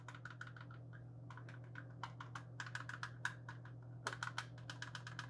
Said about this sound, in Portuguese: Dois botões que eu senti que o clique dele não tá tão preciso assim.